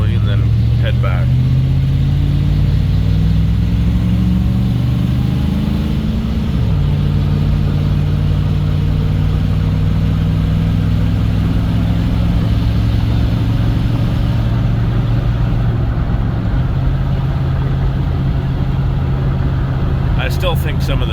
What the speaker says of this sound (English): just a quick little test drive